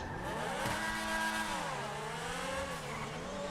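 Progen Tyrus supercar engine in GTA Online, modeled on the McLaren F1 GTR Longtail, revving and shifting under hard acceleration with a loud, rising and falling harmonic whine and no talking.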